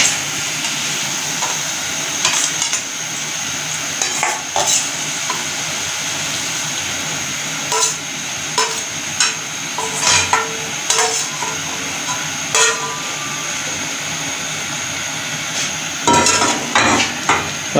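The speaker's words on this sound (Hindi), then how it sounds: "अभी हम इसी ऑयल में किशमिश को फ्राई करेंगे।" Carrots, then raisins, fry in oil for an Afghani pulao, a steady sizzle running throughout while a utensil scrapes and taps against the pan in irregular bursts, close by.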